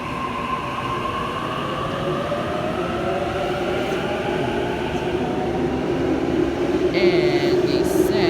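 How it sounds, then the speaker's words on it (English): A Sydney Waratah electric train pulls away from platform 1 at underground Macquarie University station on a Penrith service. Its loud, close motor whine climbs steadily in pitch over a constant rolling rumble, with a brief hiss near the end. "And Waratah now departing platform number 1 at Macquarie University for a Penrith service."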